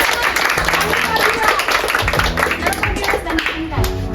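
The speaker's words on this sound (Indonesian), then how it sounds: "Tepuk tangan dong." Teenagers clap their hands together in a dense, rhythmic patter, close and lively, with voices talking over the clapping.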